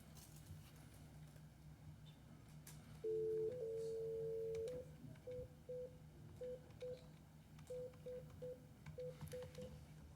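Touch-tone telephone dialing while a conference call connects in a council meeting room: a longer held tone, then a steady run of short DTMF beeps at an even rhythm over low room hum.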